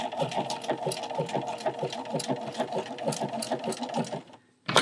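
A sewing machine stitching a blanket stitch along the edge of quilt fabric runs at a slow, steady pace, its rapid rhythmic needle clatter close and continuous before stopping abruptly near the end.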